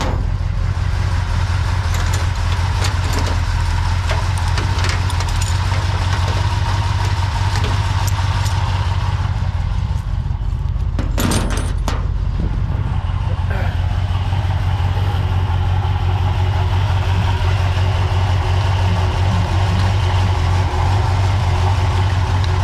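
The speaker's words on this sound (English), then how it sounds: "It does sound like a diesel." A Ford F100 truck engine idles with a rough, diesel-like clatter, a loud, steady, close rumble running throughout, briefly joined by a burst of rustling midway.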